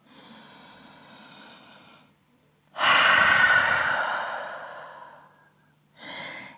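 A deep breath during a downward dog yoga pose: a soft, steady exhale, then a louder, close inhale that fades out, and a short final breath, with no talking.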